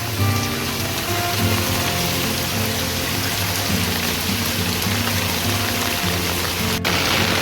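Heavy torrential rain pours down in a village, a dense, constant hiss of drops on surfaces that stays loud and even throughout with no one speaking.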